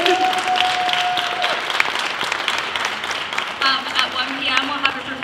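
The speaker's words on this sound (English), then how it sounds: "give another round of applause to Hozoji for such an amazing presentation" An audience gives sustained applause after a presentation, steady dense clapping lasting several seconds with faint voices and a brief tone underneath.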